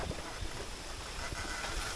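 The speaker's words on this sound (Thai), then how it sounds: "ลมแรงมากเลยนะครับ" Strong wind roars steadily and loudly across the microphone outdoors during a bamboo shoot harvest, a constant broadband rush with gusty buffeting and no voices.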